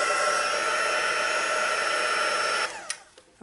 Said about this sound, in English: we're going to dry this with our embossing tool